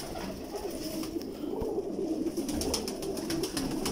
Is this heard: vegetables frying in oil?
no